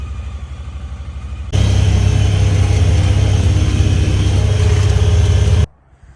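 An eight-seater Pioneer buggy engine on its first test drive, running at a steady rumble at first, then surging louder and rougher for about four seconds before cutting off abruptly.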